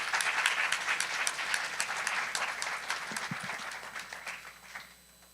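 A pitch competition audience gives a steady round of applause that dense at first, then thins out and fades away over a few seconds.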